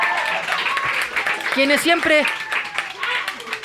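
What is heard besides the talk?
audience applause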